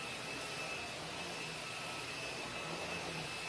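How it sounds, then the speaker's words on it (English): A cordless vacuum cleaner powered by a Dewalt-compatible battery runs with a constant, loud, airy whine and a steady high tone, unbroken and close throughout with no voices. "And I can vacuum."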